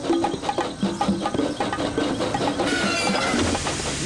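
Thomas the Tank Engine, from a video game, rolling along the rails with a steady rhythmic clickety-clack and engine chug under background music, moderately loud and continuous.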